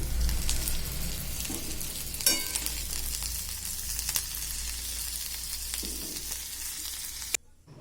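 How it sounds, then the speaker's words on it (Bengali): Kundru (ivy gourd) sizzles steadily in hot frying oil, a dense, continuous crackle with a few sharper pops, close and loud throughout before cutting off abruptly near the end. "এইখানে আমার কুন্দ্রিগুলো ভাজা হয়ে গেছে"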